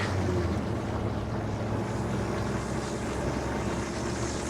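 1974 Land Rover 88 Series III Lightweight driving on a road, heard from inside as a loud, steady engine drone mixed with broad road and wind rush, with no break or talk.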